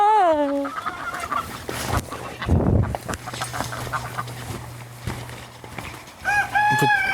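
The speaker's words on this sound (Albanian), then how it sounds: "është gjeli se ai po të qojke" A rooster calls loudly and close at the start and again near the end, with other fowl clucking and faint farmyard noise in between.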